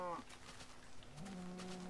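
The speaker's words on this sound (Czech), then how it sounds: "Tak, máme rozmnožený kravičky." Minecraft cows give low, drawn-out moos, one brief call followed by a longer sustained one, heard faintly behind quiet game ambience.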